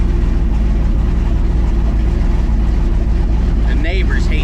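The 1,000 HP twin turbo El Camino's engine rumbles loud and close with a constant deep, heavy drone that stays steady throughout.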